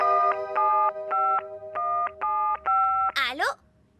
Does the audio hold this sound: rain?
no